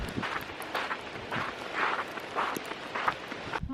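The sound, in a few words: footsteps stomping on ground with echo in windy mountains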